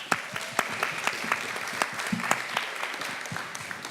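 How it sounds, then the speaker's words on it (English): Applause from an audience, a steady patter of many hands clapping at moderate volume with no voices over it. "Let's give her a round of applause."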